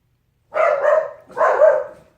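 Two dogs bark at a stubby-legged cat, giving two loud, close, drawn-out barking bursts in quick succession with no talking.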